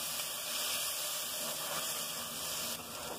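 Homemade annatto (urucum) colouring sautéing in a pan, a steady, soft sizzling hiss that continues evenly throughout with no talk.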